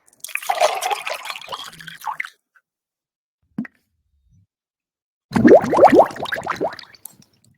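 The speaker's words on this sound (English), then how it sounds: "So there's water." AI-generated water sound effect: a burst of splashing and trickling, a brief lone drip, then a run of quick bubbly plops and gurgles, close and fairly loud with silence between.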